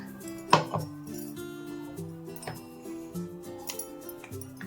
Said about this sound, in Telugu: చెంచా తీసుకొని చెంచాతో అంతా కలిపేసుకొని వేసేసుకోవాలి